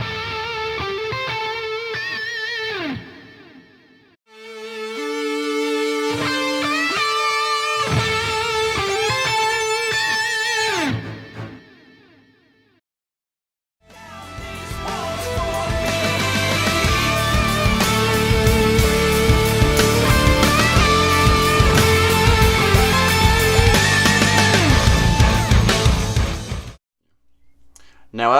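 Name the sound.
Keyboard and guitar high notes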